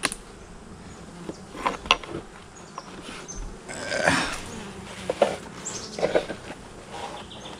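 Honeybees hum softly and steadily around an open hive in July, with scattered louder passes of single bees close by and faint clicks of equipment, and no one talking.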